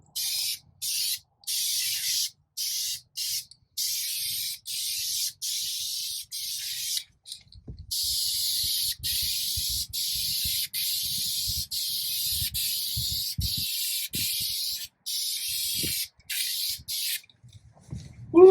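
A rattle can of spray paint hisses out light coats in a rapid series of short, sharp bursts, loud and close, with faint handling noise underneath and no talking.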